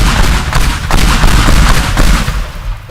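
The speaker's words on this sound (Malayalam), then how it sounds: "കറക്റ്റ് ഒരു ഗുണ്ട് പൊട്ടുന്ന സൗണ്ട്" A firecracker goes off in the video game Minecraft during a festival-ground scene, giving a loud, dense burst of booming, crackling blasts that rolls on steadily for about three seconds before tapering slightly at the end.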